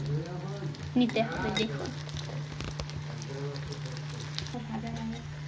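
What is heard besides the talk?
capsicum pakoras deep frying in oil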